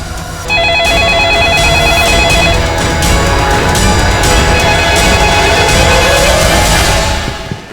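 A phone rings for a call in a Hindi police crime drama, loud and close: a warbling electronic ring tone repeats over a dense musical background, fading out at the end.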